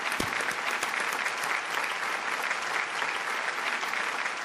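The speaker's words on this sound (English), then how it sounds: "Can we please hear the applause for both these remarkable gentlemen?" A large audience at an awards ceremony applauds steadily, a thick, even wash of many hands clapping that holds at full strength for several seconds without pause.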